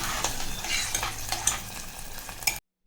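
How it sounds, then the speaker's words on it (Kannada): Fried cashews scraped and stirred around a pan for a Varamahalakshmi festival prasad, a steady close sizzle broken by repeated spatula scrapes and light clatter, stopping abruptly. "ಈ ಫ್ರೈ ಮಾಡ್ಕೊಂಡಿರೋ ಗೋಡಂಬಿನ ಇದು ಚೆನ್ನಾಗಿ ಮಿಕ್ಸ್ ಮಾಡ್ಕೊಳ್ಳೋಣ"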